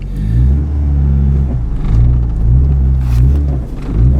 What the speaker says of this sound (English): Let's try to do a burnout in it.